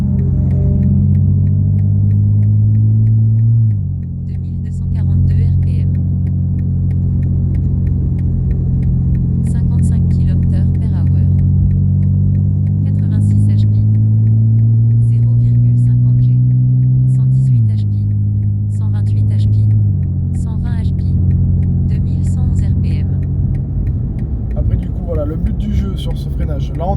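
A car engine runs steadily on a race track, a low droning hum stepping up and down in pitch as it shifts gears and slows under braking, with people talking over it in French throughout.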